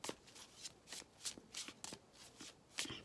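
A tarot deck is shuffled by hand in repeated soft riffles and flutters, about eight quick bursts of papery card noise, close and quiet with no talking.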